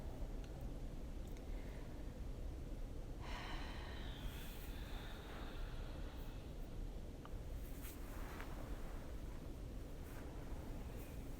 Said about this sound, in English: a few more big deep breaths here